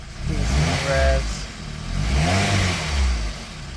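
A BMW E30 with an M40 engine is revved twice in quick succession, each rev swelling and falling back toward idle, heard close and fairly loud.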